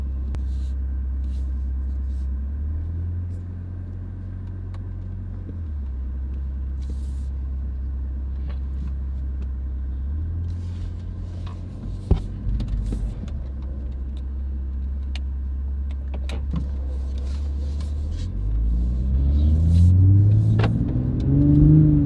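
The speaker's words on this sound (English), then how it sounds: "The stock exhaust sounds really good, and it's got some nice pops and bangs." Toyota Supra engine with stock exhaust idling and revving repeatedly in sport mode, a deep exhaust rumble with a sharp pop midway and a climbing rev at the end.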